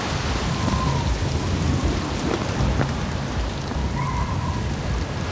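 Heavy rain pours during a Cape Town winter storm as a dense, loud, steady hiss of drops that fills the whole scene, with a low rumble beneath and no one speaking.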